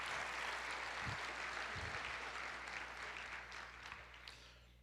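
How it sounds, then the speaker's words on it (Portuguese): Church congregation applauding together in a steady wash of clapping that holds for several seconds and slowly thins toward the end, with a few sharper low thumps along the way. "Amém, aplauda o Senhor."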